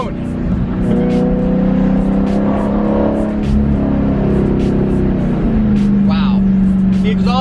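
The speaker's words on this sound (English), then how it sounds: "Just the exhaust alone." Dodge Charger Scat Pack exhaust drones loud and steady while driving, a deep continuous rumble that swells slightly toward the end, with a voice speaking over it.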